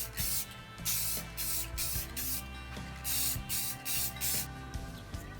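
Short bursts of aerosol spray laying light finish coats on a stained wooden napkin holder base, about six hissing passes in quick succession with brief pauses between, close and fairly quiet.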